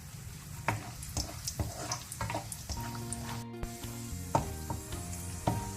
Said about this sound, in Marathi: तूप कडल्ल्यांत ताका आमी काजू मोय घालून भाजून काडया